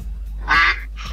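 A single duck quack used as a sound effect, a short nasal burst standing alone, with a fainter second quack trailing right after.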